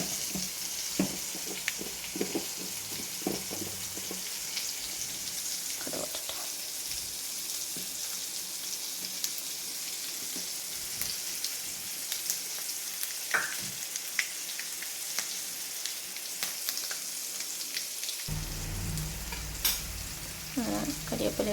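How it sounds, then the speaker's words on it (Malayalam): Mustard seeds, garlic, shallots, dried red chillies and curry leaves sizzle and crackle steadily in hot oil, a close, continuous frying hiss with scattered pops, for a Kerala coconut fish curry tempering. "അങ്ങനെ എണ്ണ ചൂടായി താളിക്കേണ്ട വെളുത്തുള്ളി, ചെറിയ ഉള്ളി, വറ്റൽമുളക്, കറിവേപ്പില, കടുക് ഇട്ട് കൊടുക്കാം"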